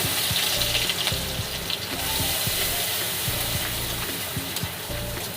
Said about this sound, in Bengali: রসুনটা একটু ভাজা ভাজা হলে